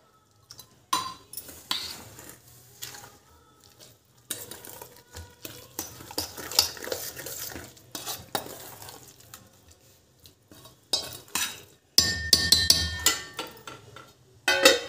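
Batter being mixed with salt in a bowl, a spoon clinking and scraping in irregular bursts with short pauses, close and fairly loud, without talk.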